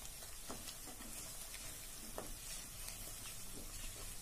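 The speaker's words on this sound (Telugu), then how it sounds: "తరువాత రెండు బిర్యానీ ఆకులు వేసి ఫ్రై చేసుకోవాలి." Two bay leaves fry in oil in a pan while cooking chicken fry, giving a soft, continuous sizzle with faint stirring scrapes, quiet and close, with no voices.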